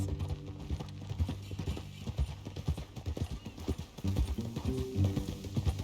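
Horse hooves clip-clop in a rhythmic, close run of strikes inside the video game Red Dead Redemption 2, with a brief whinny and low ambient game sound beneath.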